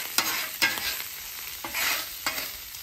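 Ground beef and charred onions being stirred together on a Blackstone griddle, a steady sizzle broken by several sharp spatula scrapes at irregular intervals, close and moderately loud with no talking.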